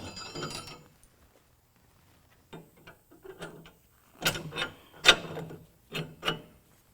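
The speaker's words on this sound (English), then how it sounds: "So once you do that, you can just jack it back up." A jack raising a 2015-17 Ford F-150 4WD during a lift kit install, heard as short bursts of ratcheting clicks separated by pauses, close and fairly loud.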